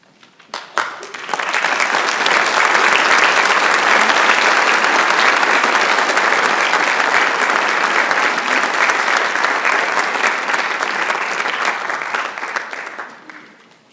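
Sustained applause from a sizable crowd at a high school senior honors night, starting with a few claps, swelling quickly and holding loud and steady before tapering off at the end.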